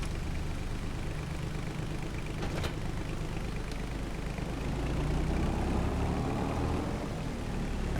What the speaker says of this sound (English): we'll go ahead and use the skid steer